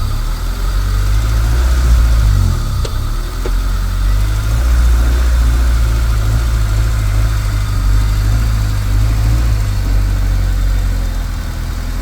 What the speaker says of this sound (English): start the car, and I'm just going to pull the car forward just to make sure it's lined up